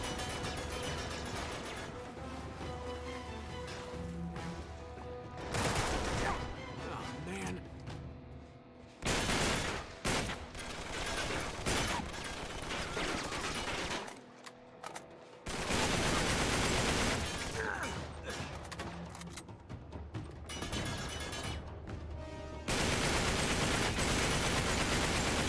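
Heavy gunfire in Uncharted 3 crackles in long sustained fusillades with a few brief pauses, loud and dense throughout, with no talk.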